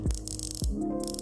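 The bezel of a Rolex Submariner Date is turned by hand, giving two sharp close clicks about half a second apart, followed by a fainter light ratcheting.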